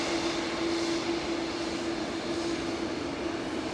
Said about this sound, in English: EasyJet from Amsterdam, just in the back. Oh no, from Geneva, sorry, in the background.